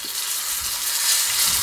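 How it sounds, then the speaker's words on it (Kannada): Green chillies and curry leaves tempered in hot oil for a capsicum chutney make a loud, steady, close hiss that runs unbroken throughout, with no voices. "ಈ ಕರಿಬೇವನ್ನು ಹಾಕಿ ಇದನ್ನು ಆಫ್ ಮಾಡಿಬಿಟ್ಟು ಈ ಒಗ್ಗರಣೆನ ಚಟ್ನಿಗೆ ಹಾಕಿದ್ರೆ"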